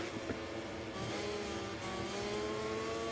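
A MotoGP racing motorcycle at a Czech Grand Prix practice session nears the hardest braking zone after a fast turn. Its engine screams as a loud, steady, high-revving roar that holds throughout with no letup.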